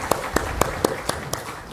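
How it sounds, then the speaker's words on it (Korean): A church congregation claps in a steady, even rhythm of about six sharp, fairly distant claps at a Friday worship service. "우리 하나님께 영광의 박수를 드리겠습니다."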